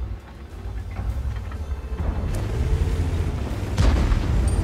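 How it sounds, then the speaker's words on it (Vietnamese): Artillery shells from the World of Tanks battle burst around a tank, deep rumbling booms and blasts swelling over constant low engine drone, with a sharp nearby impact near the end. "Anh em đếm từ đầu trận đấu cho mình cái bao nhiêu phát đạn pháo ném về phía mình rồi."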